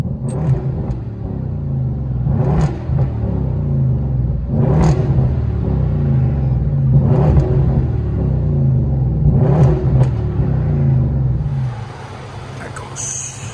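Heard from inside the cabin, a 2016 Hyundai Equus 5.0L V8 with dual exhaust, Flowmaster Flow FX and rear muffler delete makes a deep, loud rumble that swells repeatedly with revving before settling to a lower drone.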